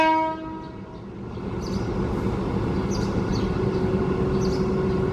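An Alstom 4123 locomotive hauling a Bangkok ordinary passenger service rumbles past close by with a steady rail roar, its horn sounding a sustained tone at the start and fading as the wagons clatter on.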